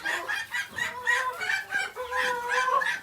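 Chickens cluck and squawk repeatedly close by, a busy chorus of overlapping calls with no talking.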